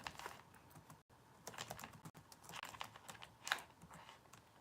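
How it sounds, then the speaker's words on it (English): Steady bursts of typing on a computer keyboard at close range, irregular clusters of key clicks with a sharper flurry near the end, heard alone without talk. "I'll try to type it in if I'm able."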